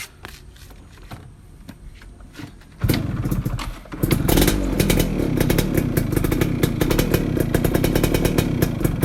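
A 2004 Yamaha F1ZR two-stroke motorcycle is kicked over a few times, catches near three seconds and settles into a loud, close, buzzing idle with choke pulled, crackling steadily to the end.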